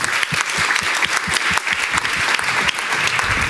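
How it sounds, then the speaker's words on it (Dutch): An audience applauds a panel guest at an Amnesty International discussion, brisk individual claps distinct and close within a steady crowd clapping that continues throughout. "Grote applaus aan Ancilla van der Leest."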